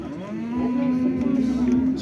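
A milk cow at the Karakol livestock market gives one long, loud, close moo that holds steady for about two seconds, with faint background noise of the market.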